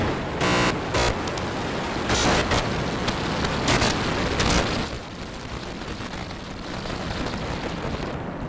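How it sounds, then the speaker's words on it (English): A SpaceX Starship rocket at lift-off roars as a loud, broad, continuous rumble, with crackling surges in the first half that ease into a steadier, slightly softer roar. "We have lift off."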